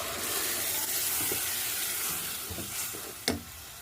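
Tomatoes tipped into a pan of frying zucchini set off a steady close sizzle, with a few soft stirring clatters and a sharper hiss near the end.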